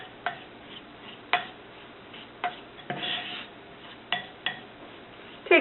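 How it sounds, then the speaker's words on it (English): A spoon smashes sugar into butter in a mixing bowl for chocolate chip cookies, with sharp clinking strikes against the bowl every second or so between softer scraping and stirring, close and fairly quiet. "smash the spoon down in there and smash the sugar into the butter"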